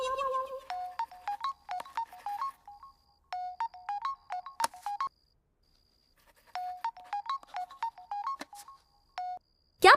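A phone ringtone plays in a Hindi-dubbed South Indian feature film, a bright electronic melody of rapid tonal notes repeating in bursts with short silent gaps, loud and alone with no talk.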